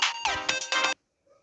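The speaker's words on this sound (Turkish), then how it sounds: "Benim telefon çalıyor bir dakika." A mobile phone ringtone plays loud and close, a bright electronic melody in several quick pulses that cuts off abruptly, leaving near silence.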